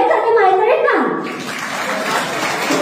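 Audience applause rises at a Gondi-language speech event in Betul district, Madhya Pradesh, following a brief spoken phrase and then filling the rest as a broad, steady clatter of clapping.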